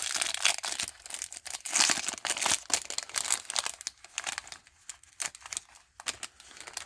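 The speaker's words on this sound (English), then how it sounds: "Let's rip some 89 Topps American Baseball." A 1989 Topps baseball card pack wrapper is torn open close up, giving bursts of crisp crinkling and ripping foil-paper noise that come in uneven handling rustles for several seconds.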